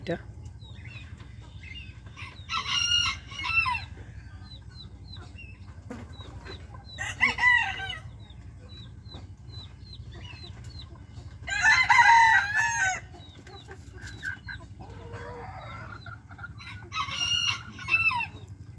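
Chickens and roosters of Sultan and Orpington breeds crow and cluck in several loud bursts over a steady low hum, with quieter stretches between calls.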